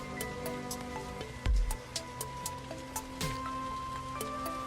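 Gentle rain falls in a steady, soft patter of drops on surfaces, close and even throughout, with faint sustained tones humming underneath.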